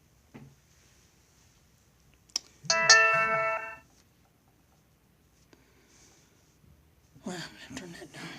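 A new phone rings with a short burst of bright, electronic, chime-like tones near the three-second mark, between quiet pauses, while someone talks nearby.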